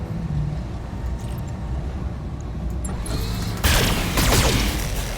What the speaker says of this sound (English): Honestly surprised I got 3 laser shots off there.